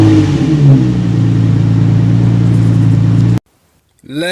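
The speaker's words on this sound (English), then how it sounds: "I want you to experience what a major exhaust leak sounds like." A 2000-2003 Nissan Maxima idles loudly with a major exhaust leak, giving a steady, raspy, pulsing drone close to the listener. It cuts off abruptly, followed by brief silence and then a rising voice.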